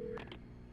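Telephone dialing in the video game Alan Wake: a short keypad tone followed by a couple of quick dial beeps, faint and brief, with nothing else around them.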